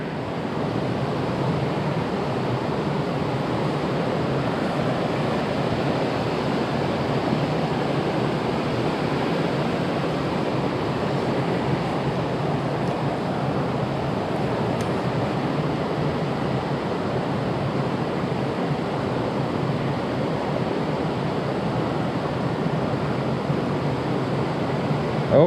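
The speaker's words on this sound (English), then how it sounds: "Or this fast, really fast water." Fast, deep river water rushes in a steady, dense roar, unbroken and fairly close, with no voices over it.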